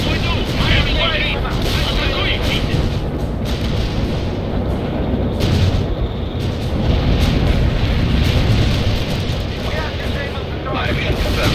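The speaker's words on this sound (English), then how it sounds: "Heavy armor firing at the enemy." Heavy armor firing at the enemy in the real-time strategy game World in Conflict: dense rumbling cannon booms and battle noise roll continuously and loudly, with radio-style unit voices mixed in.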